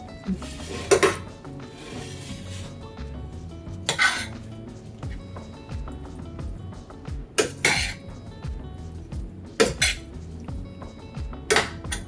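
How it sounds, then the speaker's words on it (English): A chicken and chickpea skillet with pepper gets stirred with a utensil, giving a handful of sharp metallic clanks and scrapes against the pan at irregular intervals over a quiet, faintly sizzling background. "I'm gonna stir it some so that pepper would incorporate"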